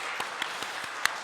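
A church congregation at a Korean Presbyterian Sunday service in Washington claps to welcome newcomers, giving a steady patter of many hands with a few louder individual claps standing out.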